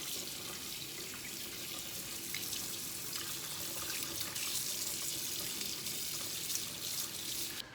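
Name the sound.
smoked salmon fillets rinsed under cold tap water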